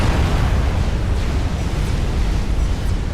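A nuke detonating in the strategy game Supreme Commander Forged Alliance Forever, a loud sustained rumbling roar with heavy low-end that holds steady for the whole stretch.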